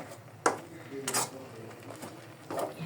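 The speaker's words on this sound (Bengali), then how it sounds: "আমি ঢাকনাটা তুলে একটু লেড়ে দিব, তাহলে আটাটা ভালো মতো সিদ্ধ হবে" A pot lid is lifted and rice flour dough is stirred in the pot, giving a few soft metallic clanks and scrapes with quiet gaps between them, fairly close.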